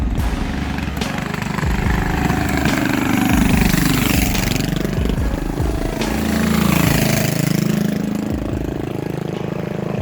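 A small motorized bike engine runs steadily near an underpass along Anaheim Street by the Los Angeles River, with a wavering idle whose pitch rises and falls, loud and continuous with no talk.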